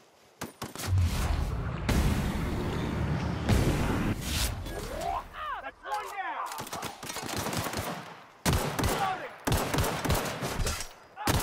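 Rapid gunfire bursts and single shots crack through a firefight in the sci-fi video game The Outer Worlds, loud and close, broken by short gaps, with sci-fi laser whines and a player's voice occasionally heard over the action.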